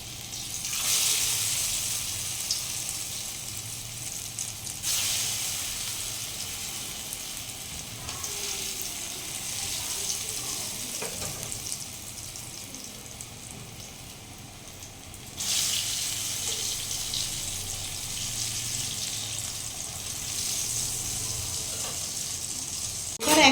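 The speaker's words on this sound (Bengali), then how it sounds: "এবার আমি ধোকার পিসগুলো ভেজে নেব এটা কিন্তু একদম আস্তে আস্তেই ভাজবো" Dhoka lentil cakes frying slowly in hot oil in a kadai, a gentle hissing sizzle that swells and fades in long stretches, fairly faint, with quiet background noise.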